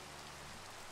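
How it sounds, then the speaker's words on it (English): Rain falls in the Minecraft video game as a dense, steady hiss of fine drops, unbroken and even for a short moment with no voices over it. "It's just rain"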